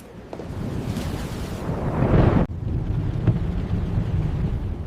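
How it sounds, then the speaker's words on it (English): Strong storm wind roars steadily and close, a heavy rumbling buffet that builds into a louder gust, cuts off abruptly, then carries on at full strength. "The wind's getting stronger."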